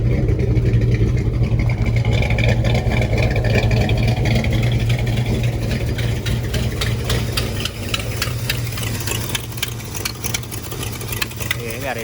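A stock Chevy engine with an exhaust leak idles steadily with a low, rumbling drone and a slight uneven knock, close and loud throughout.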